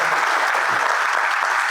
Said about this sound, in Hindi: तो सबसे पहले तो भाई के लिए तालियां हो जाए